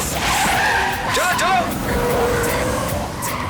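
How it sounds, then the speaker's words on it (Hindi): A car speeds in with screeching, skidding tires in an action-movie scene, loud and close, its squeal rising and bending over a roaring engine while a voice speaks. "चलो तेजी से चलो गाड़ी आ रही है"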